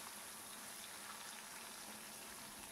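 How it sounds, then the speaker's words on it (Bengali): Faint, steady sizzling of spiny gourd coated in salt and turmeric frying in hot oil in a kadai, a soft continuous crackle with no talking. "কড়াইতে তেল গরম হয়ে গেছে, এবার কাঁকরোলগুলোকে নুন হলুদ মাখিয়ে ভেজে নিচ্ছি"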